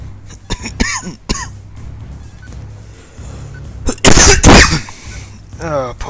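A man with a lingering cough lets out several sharp, harsh bursts close to the microphone, the loudest cluster partway through, amid intermittent breathy throat noises and no speech.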